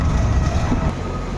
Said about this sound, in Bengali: ট্রেনে চেপে গেছি, তো এখন এখানে ট্রেনে দাঁড়িয়ে আছি